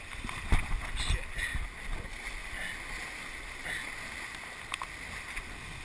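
Raft paddles splashing and dipping into the Klickitat River, uneven watery strokes early on, then softer flowing water and wind noise, with faint voices in the background.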